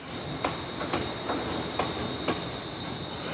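Steady rumble of a train rolling along at Platform 2 of Central Station with periodic clacks from the wheels and a faint high squeal, heard from nearby.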